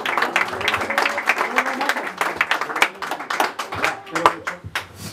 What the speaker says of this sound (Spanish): Y ese aplauso bien bonito.